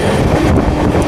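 From on board the Amrit Bharat Express between Raipur and Nagpur, the train accelerates with a loud, close, dense rolling rumble of wheels and carriage noise, roughened by wind buffeting, with no speech.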